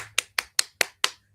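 Five sharp, evenly spaced hand claps ring out alone in a quiet room, each crisp and close with a short decay.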